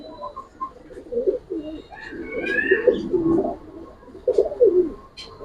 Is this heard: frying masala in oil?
no